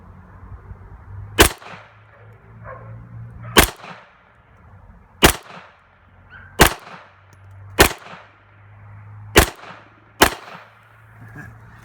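Seven loud, sharp 9mm shots from a Glock pistol firing Winchester Train & Defend 147 grain ammunition, spaced about one to two seconds apart outdoors, each crack followed by a short decaying echo over a low background hum.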